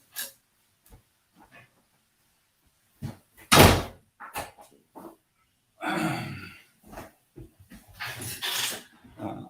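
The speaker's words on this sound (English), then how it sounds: "I'm just going to close this door." An indoor door swings shut with one loud, solid thud, surrounded by scattered softer knocks and shuffles and occasional whimpering dog sounds, with no talking.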